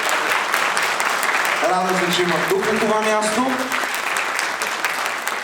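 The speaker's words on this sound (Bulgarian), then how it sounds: "Нека да ръкопляскам на всички творци тази вечер" Audience applause at an awards ceremony, a dense steady clatter of many hands, loud and sustained throughout, with someone speaking over it midway.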